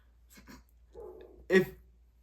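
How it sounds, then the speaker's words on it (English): A pet dog gives a few soft, muffled barks and a whimper at a distance, then one louder bark, in an otherwise quiet room. "Sorry, my dog."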